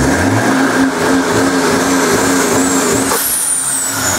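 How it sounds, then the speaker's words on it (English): A turbocharged Kawasaki ZX motorcycle engine revs hard under throttle, a loud continuous roar with a steady low tone and a rising whine near the end, heard close up with no talk. "I'll try to give it as much throttle as I can without bypassing the limiter"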